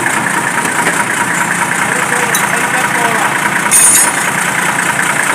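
An old Chevrolet D60 truck, restarted after sitting four years, idles with a loud, steady, rough diesel-type rumble and a brief surge near the end.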